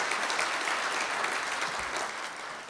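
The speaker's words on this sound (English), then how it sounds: "let's give Troy a round of applause and his staff for their great work" An audience at a mayor's State of the City address applauds, a dense, even wash of clapping from a large crowd that holds steady and begins to taper off.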